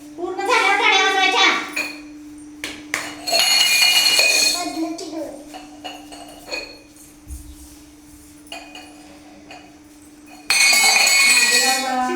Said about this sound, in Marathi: अगोदर एका लाईन मध्ये व्यवस्थित लावून घ्या ग्लास